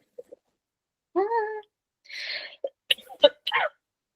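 A short throat clearing and cough-like sounds, close up, mixed with a brief high-pitched cat-like squeak and mouth noises in quiet surroundings.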